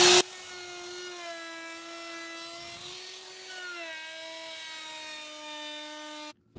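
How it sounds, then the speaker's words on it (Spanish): A high-pitched router whine runs steadily for several seconds, dipping slightly as the bit shapes a wooden hat rack's edge, then cuts off abruptly. "le voy a pasar una broca, una fresa para la orilla para que tome una figura mejor"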